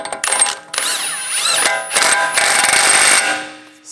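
A hub nut on a 2014-2022 Jeep Cherokee rear hub is run down with an impact tool or ratchet, giving several loud metallic whirring bursts with rising and falling pitch, separated by short pauses, and no talk.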